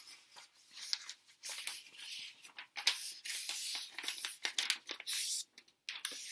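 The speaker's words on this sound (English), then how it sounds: "you want to fold this top corner down to here." A sheet of A4 paper is handled and folded up close, giving bursts of crisp crinkling, rubbing and creasing sounds in uneven rhythm, with no talking.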